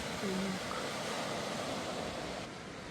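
Steady broadband wash of Black Sea surf at Kryzhanivka near Odesa, with a windy, rumbling texture, continuous and moderately loud throughout, with brief faint tones early on.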